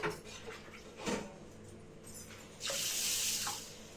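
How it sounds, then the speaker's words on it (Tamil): Water pours into a bowl of green gram (moong dal) set to soak, a soft hissing splash that starts faintly, with a brief clink near the start, then swells into a steady, louder pour over the last second and a half. "ஒரு கிளாஸ் பச்சை பயிரை மூழ்கிற அளவுக்கு தண்ணி ஊற்றிக்கோங்க"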